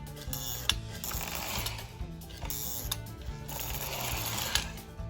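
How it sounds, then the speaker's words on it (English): Motor of a Lionel 628 postwar Northern Pacific switcher toy train running on a test track, giving a steady mechanical whir and gear chatter with faint ticks, close and continuous throughout. "Motor's running nice and quiet."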